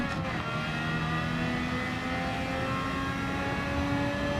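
A race car engine in Gran Turismo 7 drones steadily with tonal whine as the driver brakes into a corner, the sustained engine note holding loud and continuous throughout without any talking.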